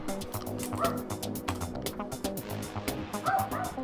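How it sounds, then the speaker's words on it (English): A dog barks repeatedly in quick bursts, with yips and whimpering whines mixed in, fairly close and continuous throughout. "I just dropped my phone and he starts barking."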